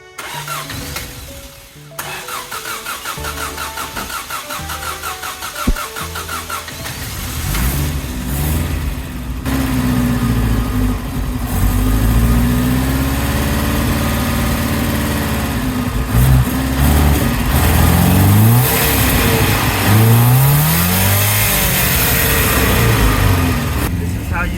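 Subaru Brat engine cranking and catching after a carb clean, then running with no idle, held up by the throttle in uneven revs that swell and sag, loud and close, with voices now and then over it.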